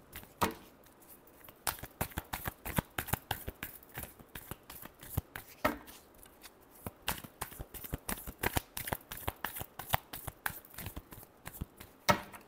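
Tarot cards are shuffled briskly by hand, a close run of crisp riffling snaps and slaps in quick irregular bursts that continue steadily throughout, with no voice.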